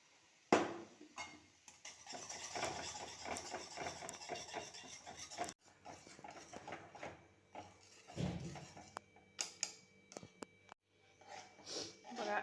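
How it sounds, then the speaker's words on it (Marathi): Gram flour batter whisked in boiling salted water in a pot, a steady scraping and rubbing rasp of the whisk against the vessel, close and fairly quiet, with short pauses and a few sharp knocks. "आता मी हाटून घेते याला"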